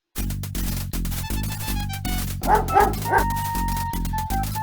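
In the King's Quest 5 video game, a cartoon dog barks and yips in a quick, rhythmic string of sharp barks while it digs at a large anthill. A brief flurry of higher yelps comes midway, and steady game tones run underneath.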